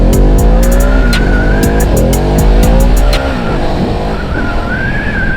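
A Ducati Hypermotard 950 motorcycle on a road ride in Thailand, engine revving hard and rising in pitch through gears during a power wheelie, loud and close with wind rush, easing slightly near the end.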